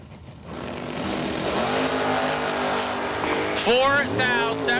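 Third-generation Camaro drag race car engine at a bracket drag racing event, a steady loud roar that rises sharply near the end, with an announcer talking over it throughout.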